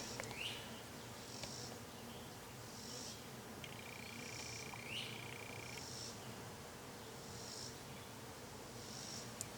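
American bumblebee colony in a nest box, with a steady low, faint buzzing hum running throughout and a few distant bird chirps overhead.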